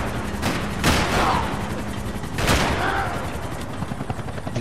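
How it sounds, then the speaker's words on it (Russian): Sniper rifle fire in Max Payne 3, with two loud sharp shots about a second and a half apart over steady game background noise, and a voice talking in between. "Убойная снайперская винтовка."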